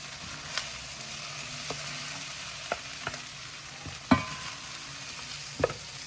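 Rice frying in a pan with olive oil for loaded fried rice, a steady low sizzle broken by a handful of sharp scrapes and clacks of stirring, the loudest near the middle and end.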